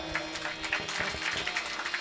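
An audience at a Warkari kirtan claps together in a steady, rhythmic beat. The clapping is fairly soft and even, with the claps landing about every quarter second.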